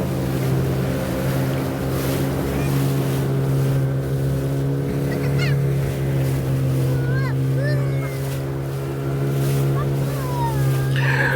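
A speedboat cruising on Lake Sarangan, its motor droning steadily and loud throughout with water and wind noise around it, plus faint chirps.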